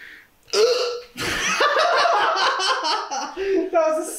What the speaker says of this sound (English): Why didn't you burp in my mouth, bro?